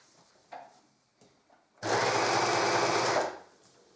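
An overlocker sewing machine stitches fabric for a gun sock in one steady whirring burst of about a second and a half, preceded by a few soft handling taps.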